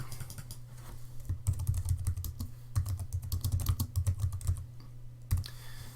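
Steady typing on a computer keyboard, close and clear, with a dense run of key clicks and a few heavier keystrokes and no talk over it.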